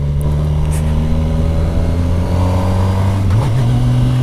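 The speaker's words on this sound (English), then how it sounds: "That was a downshift." Kawasaki Versys 1000 SE GT motorcycle downshifting without the clutch: a steady, loud engine drone that holds its pitch, then jumps briefly in pitch near the end as the gear drops.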